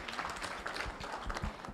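An audience at a multistakeholder conference breaks into applause, a dense, moderately loud patter of many hands clapping that lasts a couple of seconds without a break.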